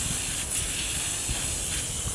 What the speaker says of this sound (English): I take my Cool Lube and just spray it in here